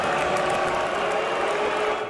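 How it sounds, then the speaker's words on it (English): Dense, steady roar of a jam-packed stadium crowd booing security officers who ejected two fans, a continuous broadband wash of many voices filling the whole span at a fairly loud, even level. "Hear those boos?"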